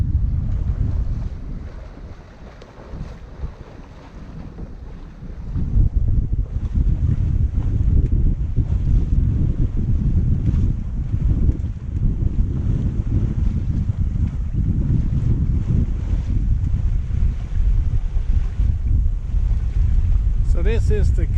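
Strong wind buffets the microphone aboard a sailboat under sail, a loud, gusty low roar that swells and eases with water and hull noise beneath, steady for twenty seconds.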